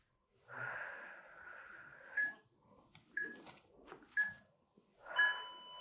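Deep, drawn-out inhalations and exhalations during a cobra stretch in an arm-toning warm-up on a mat, several breathy wheezes with short pauses between them, close and fairly quiet, with no talking.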